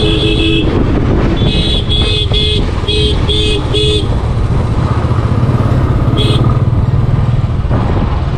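A vehicle horn on a road between Udaipur and Ajmer, heard during a motorcycle ride, gives a quick series of about six loud, short toots, then one more after a pause, over constant engine and traffic rumble.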